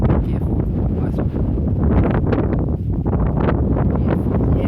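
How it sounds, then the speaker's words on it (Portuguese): Strong wind gusts batter the microphone on a high rock lookout, a loud, continuous rumbling roar with rustling bursts and no talk. "E o vento é forte aqui"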